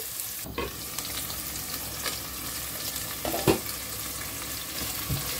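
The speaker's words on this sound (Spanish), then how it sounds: "vamos a sofreír la cebollita por 5 minutos" Chopped onion with a bay leaf fries in a pan for pumpkin cream soup, giving a continuous close sizzle with occasional spoon strokes and light knocks against the pan, with no voices.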